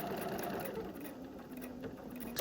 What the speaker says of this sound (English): Drop my needle down, stitch again.